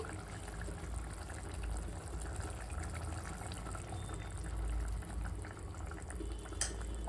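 A pot of rice and lentils for khara pongal bubbling steadily at a gentle boil, with a continuous low churning of liquid throughout and no voices.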